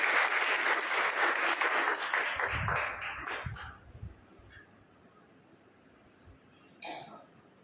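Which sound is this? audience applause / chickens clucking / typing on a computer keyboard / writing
audience applause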